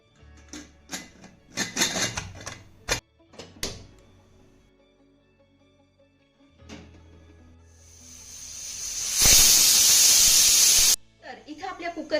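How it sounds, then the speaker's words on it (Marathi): A pressure cooker on medium heat, cooking wheat-flour dough, lets out a loud, steady burst of steam hiss lasting about two seconds, preceded by kitchen clatter and talk and followed by more talk. "मीडियम वरती कुकरच्या तीन शिट्ट्या करून घ्यायच्या"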